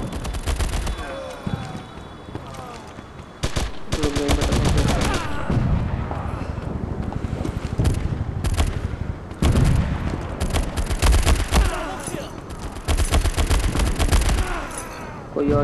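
Gunfire in a World War 2 combat game on Android, with dense bursts of rapid automatic shots and single cracks packed close together across the whole stretch, loud and near.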